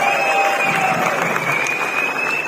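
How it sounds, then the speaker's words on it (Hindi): Audience applause at a large indoor teaching event in Delhi, continuous clapping with some crowd noise and cheering, joined by a sustained electronic feedback tone from the sound system. "एक बार उनके लिए जोरदार तालियां बजाइए।"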